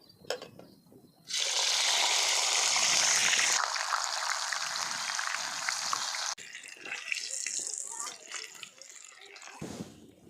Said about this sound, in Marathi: तेल पण तापलंय चांगलं आपल्याला आता मिरचं तळून घ्यायचं आहे